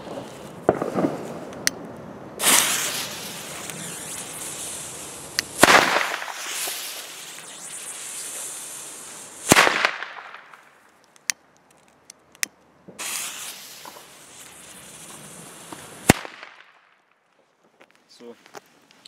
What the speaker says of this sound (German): Pyrocracker vom Keller. Nehmen wir mal so 3 Stück.